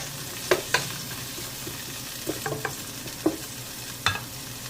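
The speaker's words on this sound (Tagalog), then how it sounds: "ilagay natin yung onion. Mix lang natin para hindi masunog." Onions stirred in hot oil in a pot for beef vegetable soup: a steady soft sizzle with several sharp scraping clicks of a utensil against the pot at irregular intervals, no talk.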